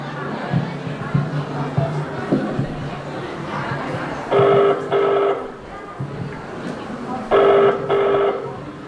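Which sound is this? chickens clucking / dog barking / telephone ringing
telephone ringing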